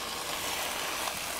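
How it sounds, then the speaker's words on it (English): Whole spatchcocked chicken with McCormick Applewood seasoning sizzling as it is laid onto the grill plate of a Ninja Foodi Grill, a steady, fairly quiet broadband hiss and crackle with no talking. "should get a little bit of sizzle"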